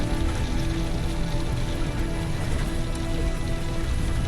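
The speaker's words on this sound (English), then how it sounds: "Suddenly, this very heavy rain seemed to come from nowhere." Sudden, very heavy rain pounds an aircraft windshield as a dense, steady roar of water, with a low engine hum running underneath the whole time.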